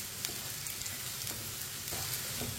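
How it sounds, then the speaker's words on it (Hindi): Tinda (apple gourd) fries in a pan while a spoon stirs it, giving a dense, even sizzle with faint recurring scrapes, close and fairly quiet, with no voices. "इसे चम्मच चलाते हुए पकाना है, चम्मच छोड़ना नहीं है"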